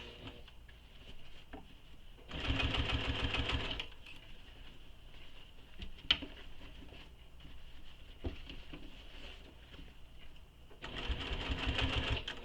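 A sewing machine stitches fabric in two fast rattling runs, a soft faint hum and light handling clicks between them, recorded close.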